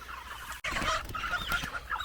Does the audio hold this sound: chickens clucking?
yes